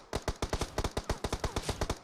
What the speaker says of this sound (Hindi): साथ में पीछे की तरफ गोलियां भी चला रहा था